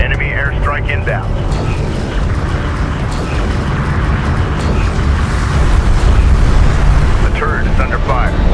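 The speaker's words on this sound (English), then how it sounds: "Enemy airstrike inbound." An enemy airstrike in Homeworld: Deserts of Kharak rains down as a continuous, heavy rumble of explosions and engine roar across a desert plateau battle, dense and loud throughout, while radio voices talk over the din.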